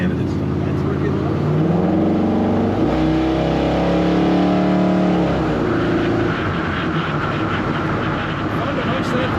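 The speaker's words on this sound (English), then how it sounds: "Fun to punch that throttle." A 1967 Chevrolet C10 pickup's engine revs up strongly with rising, shifting pitch through its automatic transmission, then settles to a steady drone, heard close and loud with a voice over it.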